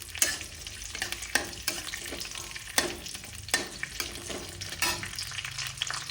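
Cashews and raisins fry in hot refined oil with a steady, close crackling sizzle, broken by sharp scrapes and clicks of stirring spaced through the clip. No one speaks.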